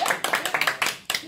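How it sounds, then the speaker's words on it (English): Brief burst of audience applause after a call for a round of clapping at a Rubik's Cube magic show, the clapping rising and falling in short uneven waves. "Give them a round of applause."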